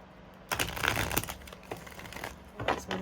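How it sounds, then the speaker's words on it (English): Tarot cards are shuffled by hand close up, with crisp papery riffles and rustling bursts coming in quick uneven waves. "Let's get some good shuffles out."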